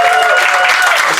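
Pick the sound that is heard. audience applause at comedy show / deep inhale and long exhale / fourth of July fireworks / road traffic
audience applause at comedy show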